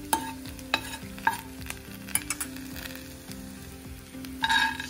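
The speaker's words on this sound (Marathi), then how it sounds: "खोबरं परतत आलं की मग शेंगदाणे टाकते।" Grated coconut being stir-fried in a pan for a traditional Maharashtrian green-stemmed brinjal masala curry, with a steady sizzle, repeated scraping strokes of a spatula and occasional sharper clinks, close by and no voices.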